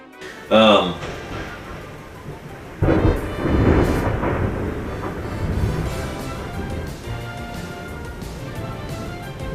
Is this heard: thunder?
yes